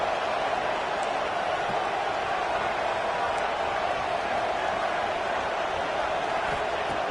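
A home crowd at a football playoff game roars in a dense, steady wash of cheering and noise that holds evenly throughout, loud and broad with no pauses.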